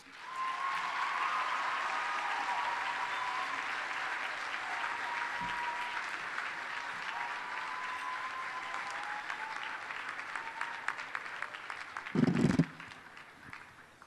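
Sustained audience applause at a school gala, a steady wash of clapping from a large hall that holds level for over ten seconds before tapering off, with a brief louder thump near the end.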